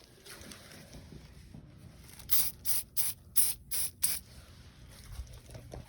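A spray bottle squirts liquid onto old radiator parts in six quick close hisses, evenly spaced about half a second apart, with a quiet background and no talk.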